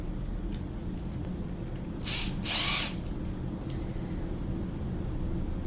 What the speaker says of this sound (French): Je voulais faire des trous du plus petit au plus grand.